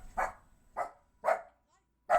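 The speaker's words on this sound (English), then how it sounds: "You have a barking puppy." A puppy barks four times in short, evenly spaced yips, fairly near and clear, with quiet gaps between each bark and no talking over them.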